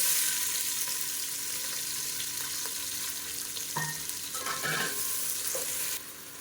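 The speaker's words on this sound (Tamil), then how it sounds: "இப்போ இரநூறு கிராம் அளவுக்கு பெரிய வெங்காயம் நீளமாக நறுக்கினதை சேர்த்துக்கலாம்" About 200 grams of large onions, sliced lengthwise, sizzle steadily in a pan for Madurai-style mutton biryani, with a few clinking stirs of a utensil over the constant frying hiss.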